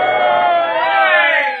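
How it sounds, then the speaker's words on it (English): Crowd cheering at a boxing match on a vintage radio comedy broadcast, a brief, loud swell of many voices roaring together, rising slightly before tapering off. "The crowd cheers."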